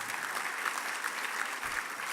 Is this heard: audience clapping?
yes